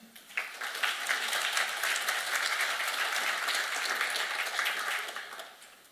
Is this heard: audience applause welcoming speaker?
yes